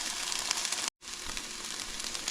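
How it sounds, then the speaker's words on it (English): Sliced peppers sizzle softly in a frying pan with a steady hiss, broken by a brief cut of silence, then the sizzle resumes with faint scraping from stirring. "I'm still going to give these a stir."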